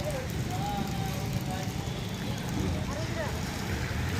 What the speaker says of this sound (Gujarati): અહીંયા તો ફૂલે ફૂલ પવન આવે છે